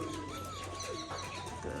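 Pigeons in a cage give low, faint cooing calls, a soft continuous murmur with a thin tonal whistle running through it, quiet and close by.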